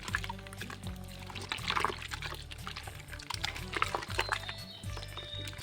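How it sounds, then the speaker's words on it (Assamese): Water is poured into distemper paint while it is being mixed, a close continuous splashing, gurgling pour with bubbling and a faint steady hum underneath. "আৰু ইয়াতে আমি পানী দিম। পানী দিয়াৰ লগে লগে পাতল হ'ব।"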